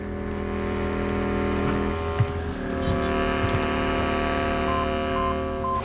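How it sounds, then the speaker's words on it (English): A truck engine runs steadily at idle, a continuous low hum with tonal drone layered over it, moderately close and unbroken for the whole stretch with no talk. "The truck's all fired up and waiting for you, sir."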